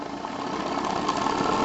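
Model steam engine JLS 13-2 running on steam and speeding up, a steady close chuffing hum that holds evenly and grows slightly louder toward the end.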